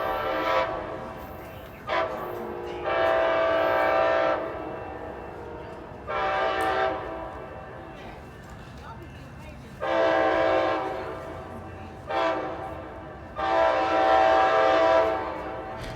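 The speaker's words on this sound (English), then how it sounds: "here comes Amtrak train number 534" An Amtrak passenger train horn sounds in repeated long and short blasts, loud and fairly close, over the steady rumble of the passing train at Jack London Square, Oakland.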